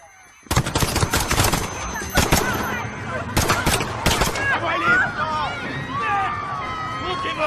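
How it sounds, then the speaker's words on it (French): Several sharp gunshots ring out in a tense action scene at Piccadilly Circus, close and loud, followed by agitated shouting and chaotic voices. "Des coups de feu, plusieurs agents touchés."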